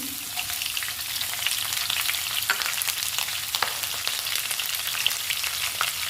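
Sliced onions and green chillies frying in a pan, with a steady close sizzle broken by repeated scraping clicks of a spoon stirring them, and no speech.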